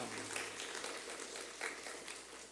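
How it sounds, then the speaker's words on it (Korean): A church congregation applauds during an ordination and installation service, a soft, dense wash of clapping that holds steady and fairly distant throughout. "우리 하나님께 영광의 박수 드리겠습니다."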